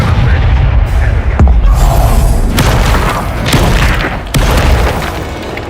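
Bombarda blasting spell cast in Hogwarts Legacy, a loud booming explosion with a sharp burst near 1.4 s and further heavy thuds under a constant roar of battle noise, with voices in the scene.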